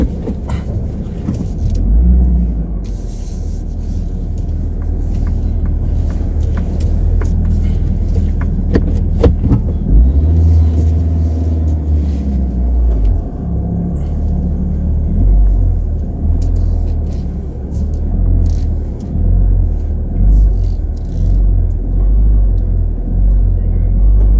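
A car rolls backward at low speed on a Madeira road near Ponta de São Lourenço, giving a steady, close engine rumble with low-frequency drone and faint road noise throughout, no clear revving.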